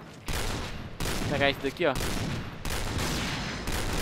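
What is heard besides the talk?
gunshots in the video game Point Blank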